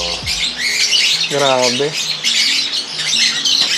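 A crowd of birds in an aviary squawks and chirps continuously, with someone briefly speaking over the dense, close chatter.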